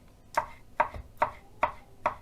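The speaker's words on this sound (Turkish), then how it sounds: "aynı çoban salatasını doğrar gibi zar şeklinde doğrayalım" Five sharp knife chops through tomatoes, cut into cubes on a cutting board at a steady, even pace, close and fairly loud, with a soft thud under each stroke.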